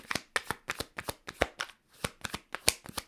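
Tarot cards are shuffled in a quick series of crisp riffling bursts, about a dozen sharp snaps in an uneven rhythm, close up with no talking.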